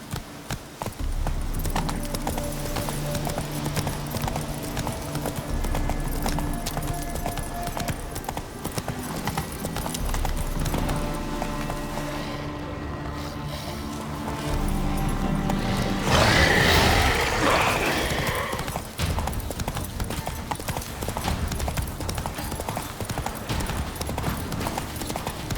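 Roach, a horse in The Witcher 3, gallops with fast, steady hoofbeats close by, mixed with rattling tack and a rough crashing burst midway through.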